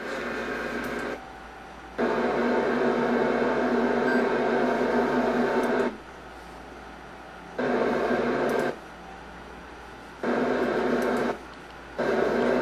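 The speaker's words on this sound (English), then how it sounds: "That's the boiler room in back of my apartment." Boiler room machinery behind an apartment hums steadily, cycling between a loud broadband roar and a quieter low drone every few seconds in a regular on-off pattern.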